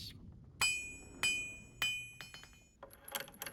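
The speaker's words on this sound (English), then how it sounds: "That's a hammer sound." Three sharp ringing hammer strikes with metallic overtones, evenly spaced and close, followed by a quicker cluster of lighter clinks, from a hammer in The Long Dark survival game.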